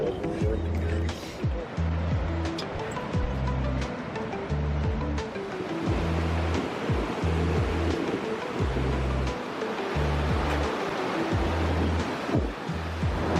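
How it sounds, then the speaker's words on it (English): Roaring white water rapids of a glacier river in the Everest region, a steady loud rush of churning water with a rhythmic low thumping underneath, constant throughout. "Look at the white water there."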